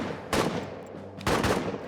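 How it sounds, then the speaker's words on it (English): Two bursts of rapid gunfire from a WWI trench warfare video game ring out, each a short loud volley about a second apart, with a quieter gap between them and no talk. "then we'll give covering fire each for one person"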